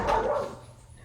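A dog gives a single short, fairly close bark that fades quickly, heard alone with no talking.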